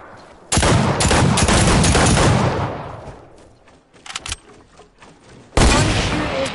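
Rapid gunfire in a video game, loud bursts of automatic shots in two clusters with a quieter gap between, close and dominant.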